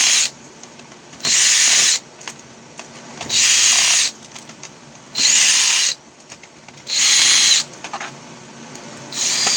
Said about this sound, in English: So let's get rid of all the screws.